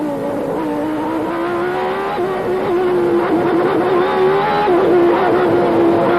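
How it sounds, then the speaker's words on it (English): A McLaren Honda Formula 1 car from 1990 at the Mexican Grand Prix, Hermanos Rodríguez circuit, its engine screaming loud and steady with rapid throttle blips and pitch changes as it takes corners, no talk over it. "You can hear the flipping on the throttles as he goes through the corners"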